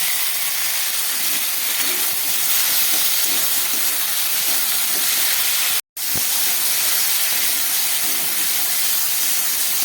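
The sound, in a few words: beans and potatoes frying with salt and turmeric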